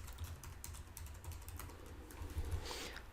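Quiet, rapid keystrokes on a computer keyboard at a desk, a soft irregular patter of clicks close by with faint background hum and no speech.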